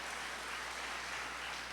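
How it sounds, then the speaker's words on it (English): Round of applause for a Trinidad and Tobago javelin gold medal on a news programme, a soft, dense, even wash of clapping at a distance, faint and steady for a short moment. "Let's celebrate that with a round of applause"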